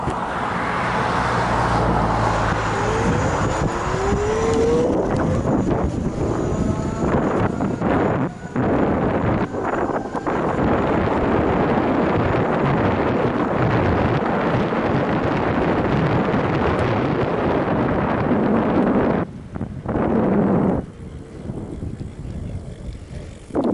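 Leafmotor electric bike motor at about 3900 W, 46 V and 85 A, pushed at full throttle up a steep hill: a loud, sustained motor whine heavily mixed with wind rush against the microphone, with no speech.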